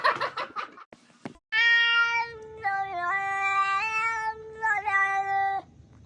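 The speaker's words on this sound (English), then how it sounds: "We have a stalker kitty." A cat lets out a long, loud drawn-out meow with shifting pitch close by, after a few brief chirping sounds and a short pause.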